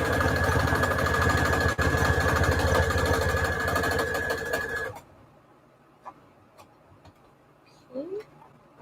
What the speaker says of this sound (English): I'm just using a regular straight stitch on regular settings